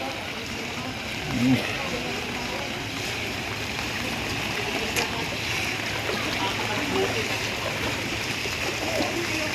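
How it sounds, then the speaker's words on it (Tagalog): Strong floodwater current rushes steadily past a stranded motorbike on a flooded road during heavy rain, a continuous broadband wash of water that stays loud and unbroken throughout. "Grabe, bukas ng agos."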